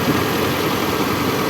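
A car engine idling at about 800 rpm, flushed with oil mixed with cooking oil to clean out sludge, giving a steady, loud, close rumble with no talking.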